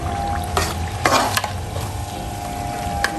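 Ham and beans with onion, parsley and chives are stirred in a hot pan, several loud scraping spoon strokes cutting over a constant close sizzle.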